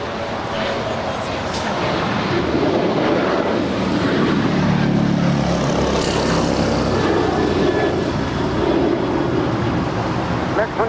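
JetBlue airliner taking off on runway 25 right at LAX, a continuous broad engine roar that stays loud and steady throughout, heard from a spotting position with no clear talk over it.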